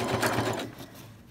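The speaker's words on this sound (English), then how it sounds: "We're on the home stretch with our binding, so we're just going to sew a little bit more." A sewing machine stitches quilt binding on a reversible T-shirt quilt, running steadily and close at first, then easing off in the last half second.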